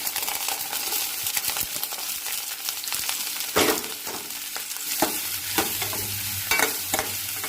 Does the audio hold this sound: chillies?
yes